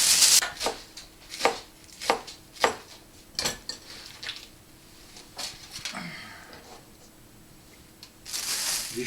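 Napa cabbage being chopped with a knife on a cutting board: a series of crisp, irregular close chops with short pauses between them, with no voices.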